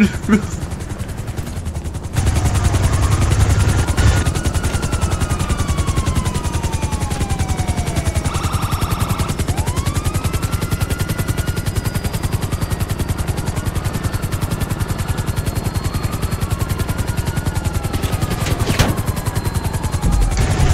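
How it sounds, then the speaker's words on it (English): Rapid video-game gunfire in GTA 5 rattles loudly and continuously over a steady engine drone, with brief whooshing passes and bursts running through most of the stretch; a voice is faintly present. "I'm shooting this lady and she's not dying."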